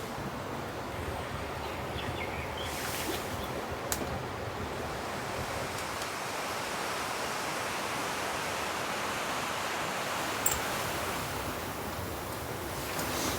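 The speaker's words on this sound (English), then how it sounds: "That noise you can hear in the background, that's the stream over there." Steady rushing water from a nearby stream, a constant broad hiss and burble that never lets up, with no voices.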